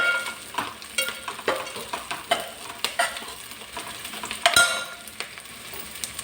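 Onions fry in a pan alongside green chilies, a soft, crackling sizzle broken by repeated scrapes and clicks of a spoon stirring them.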